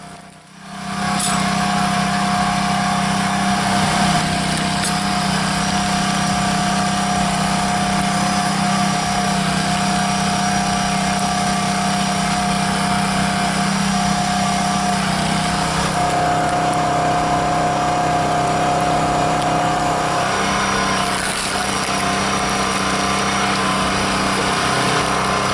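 A custom-made, engine-powered firewood splitter runs with a loud, steady high-pitched engine drone that continues without a break for the whole stretch, with no talking.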